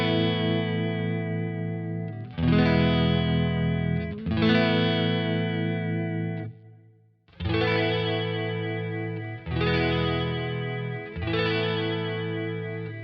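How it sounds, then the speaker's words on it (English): A Boss CE-1 vibrato effect on guitar through a Kemper Profiler: sustained distorted chords ring out in six long strummed phrases, the dry tone first, then wavering with vibrato, loud and alone. "I have took the vibrato effect, and this is my first result for that sound. Original and the vibrato."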